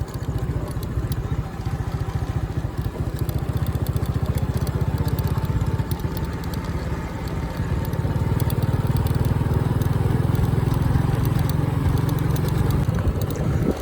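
A motorbike on a road near the Rathoa Haryam bridge in Mirpur, Azad Kashmir, with a steady, loud low engine drone that runs through the whole stretch and swells slightly toward the end as if drawing closer.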